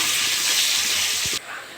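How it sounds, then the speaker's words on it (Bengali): Potatoes fry in hot mustard oil with turmeric and salt, giving a loud, dense sizzling hiss that cuts off abruptly near the end and leaves a quieter background. "তেলটা গরম হয়ে গেছে, আলুগুলো ভেজে নেবো।"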